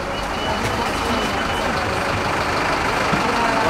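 Steady broadband rumble of a bus driving on a journey through Peru, its engine and road noise constant and close throughout, without distinct events.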